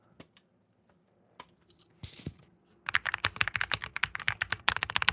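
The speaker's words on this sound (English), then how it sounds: "You guys want some keyboard ASMR?" Someone types on a computer keyboard at close range, beginning with a few scattered clicks and a brief rustle, then breaking into a rapid, loud run of keystrokes that continues to the end, with no talk.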